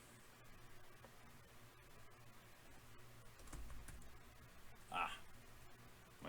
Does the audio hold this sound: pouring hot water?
no